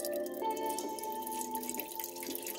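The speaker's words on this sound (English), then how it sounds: "Just going with this little cup here and slowly just pour this through here." Homemade wine pours slowly from a small cup through a strainer, giving a faint, steady liquid trickle with light splashy dribbles, heard close and quiet.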